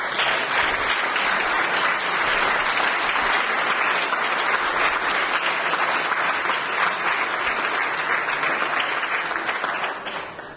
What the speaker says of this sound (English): give a big round of applause for all of tonight's winners